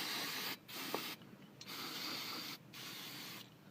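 Brake cleaner sprayed onto front brake parts of a Dodge Neon, heard as three sustained close hissing bursts of roughly half a second to a second and a half each, separated by short pauses.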